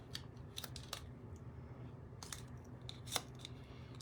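Scissors snip through a piece of card in a quiet room, giving several crisp, close cuts in short irregular bursts, then a sharper final snip as the card separates.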